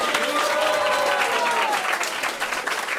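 An indoor audience at a Hare Krishna temple program applauds a visiting swami. Dense, sustained clapping fills the room at even loudness, with a faint voice in the crowd.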